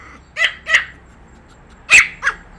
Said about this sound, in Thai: มดส้มก็เห่าไม่หยุด